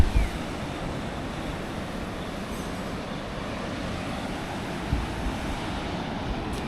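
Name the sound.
waves breaking at Om Beach, Gokarna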